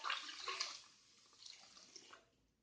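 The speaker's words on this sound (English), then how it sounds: "Clean the rice and wash the rice till the whole starch goes out of the rice" Water sloshing and splashing as rice is washed to rinse out starch before microwave cooking, heard close up in short bursts, then a lull and more gentle swishing.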